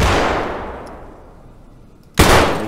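AK-74 rifle firing in a video game: a sharp, loud shot bursts in near the end after a long decaying tail from an earlier report, heard alone with no talk.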